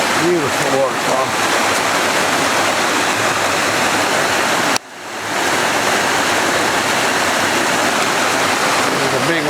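Steady broadband roar of a waterfall on the Jacks River, with a dip in the rush near the middle before it swells back.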